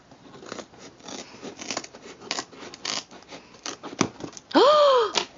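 Scissors snip and rustle through a parcel package in a series of close, crisp cuts and crackles, ending with a sharp high-pitched squeak at the end.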